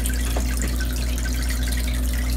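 Water runs steadily into an ice machine as it fills, a continuous close trickle over a low machine hum, with a couple of faint drips or clicks and no talk.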